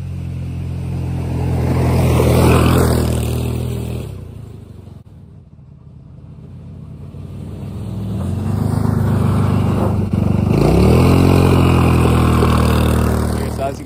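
A Hammerhead GTS 150 scooter with a GY6 engine climbs a hill, its motor droning loudly and rising in pitch, easing briefly midway, then revving hard again close by.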